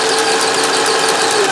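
Singer 411G sewing machine with roller foot running chain stitch through rubber-backed fabric at high speed, a steady fast mechanical whir and rattle of the belt drive, loud and continuous without talk.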